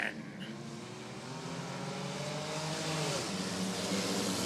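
Race cars in an Original Sixers heat at Rockford Speedway roll toward the green flag, a steady blended engine drone building slightly in loudness, heard from a distance with no talk.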